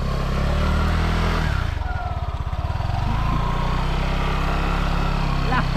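A motorcycle stuck in mud on a wet, rainy day revs and labors near the microphone, its engine note dipping and rising with sputtering pulses while voices are heard alongside.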